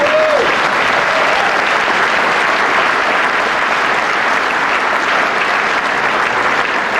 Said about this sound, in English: I think I heard some applause, and I think we should applaud